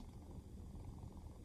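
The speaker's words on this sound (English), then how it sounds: "He just never stops purring." A cat purrs steadily and softly, a low continuous rumble held close with no other sounds.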